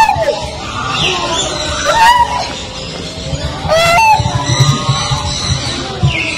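Loud honking calls from large birds at a bird sanctuary, several overlapping cries rising and falling nearby, with shouting mixed in.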